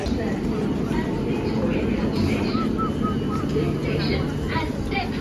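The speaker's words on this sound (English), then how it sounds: "This is a Victoria Line train to Central." A London Underground Victoria Line train running at Euston, giving a steady loud rumble with hum and a high whine that holds throughout, while a voice carries over the top.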